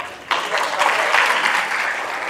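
Students at a school seminar on bearings burst into brief, close applause that starts abruptly and continues steadily before tapering slightly.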